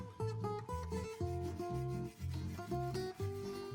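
A file is drawn by hand across the metal of a forged gun blade, close and fairly quiet. About eight rhythmic strokes scrape back and forth with no voices.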